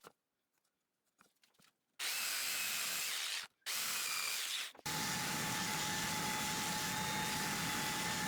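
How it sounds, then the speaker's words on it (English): A power sander smooths a handle hole cut in a wooden board. After a few quiet taps, it starts with a loud steady whir, cuts out briefly twice, then runs on continuously. "Then use a sander or sandpaper to smoothen the handle hole."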